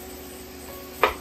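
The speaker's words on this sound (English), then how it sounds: "So it's just basically chopping your meat down." Meat is chopped with a spatula on a sizzling griddle for a chopped cheese sandwich, a steady sizzle with one sharp close metallic chop near the end.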